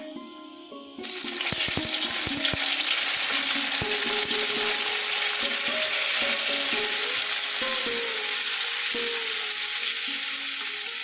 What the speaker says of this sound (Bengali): তেলটা গরম হয়ে গেছে, এবার আমি দিয়ে দিচ্ছি প্রথমে এই কুচানো টমেটোটা।